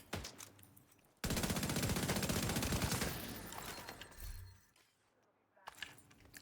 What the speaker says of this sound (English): This guy can't see me through this until he comes through, and then suddenly starts shooting.